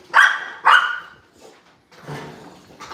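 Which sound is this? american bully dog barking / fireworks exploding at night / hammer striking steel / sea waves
american bully dog barking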